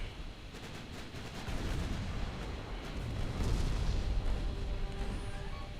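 Mark II guns on a battleship fire in Ultimate Admiral Dreadnoughts, a naval video game: a continuous barrage of deep booming gunfire and rolling detonations that builds slightly louder midway and keeps going with no talk.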